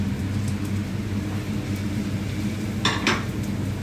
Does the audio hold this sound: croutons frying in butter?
yes